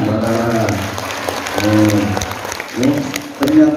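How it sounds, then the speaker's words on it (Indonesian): Applause from the crowd at an Islamic religious gathering with a sermon, a steady spread of clapping mixed with voices and murmuring throughout. "Tepuk tangan, Barara."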